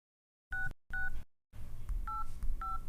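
A telephone being dialed: a series of distinct electronic keypad tones, the first two separated by silence and the rest over a low background hum, clear and close with no speech.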